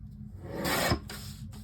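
Paper being trimmed for a handmade mini album, a single close rasping cut that swells for about half a second and then stops, followed by a few faint rubbing sounds.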